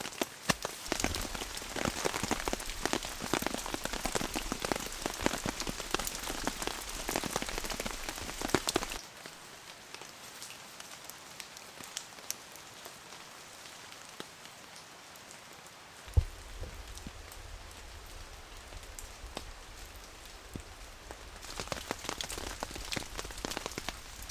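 Rain patters steadily on a tarp shelter at a bush camp overnighter. The downpour is dense and close at first, grows quieter and more muted partway through, then swells again near the end.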